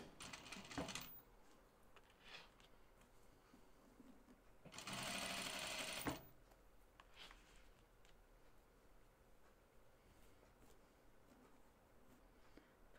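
A sewing machine stitches the underarm seam of a Scout Tee in a few short bursts, with one longer, steady run in the middle, close by and otherwise quiet.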